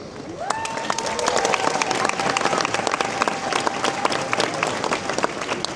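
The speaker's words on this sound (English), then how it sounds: "let's have one final round of applause for the official principal party and honoured guests" Crowd applause and scattered cheering at the Riding of the Marches in Edinburgh, an outdoor civic ceremony with a horse cavalcade on the Royal Mile; dense, steady clapping runs loud throughout, with a faint sustained tone running beneath it.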